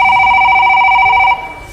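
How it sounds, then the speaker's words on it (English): A phone rings in a video game, a loud steady electronic tone sounding continuously before cutting off abruptly, leaving quiet background ambience. "your phone's ringing"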